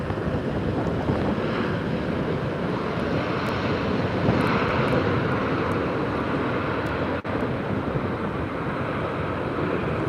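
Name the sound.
Airbus A330 from Paris Charles de Gaulle landing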